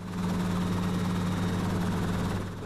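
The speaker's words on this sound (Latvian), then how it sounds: "Un pats pirmo reizi vadot helikopteru esmu atrāvies no zemes." Helicopter lifting off on its first test flight, a steady dense rotor and engine roar with a low throbbing hum, close and loud throughout with no talk.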